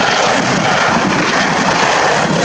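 Military helicopters approach a target during an ILA 2018 air show demonstration, a loud, steady, dense rotor and engine roar that holds close and unbroken throughout.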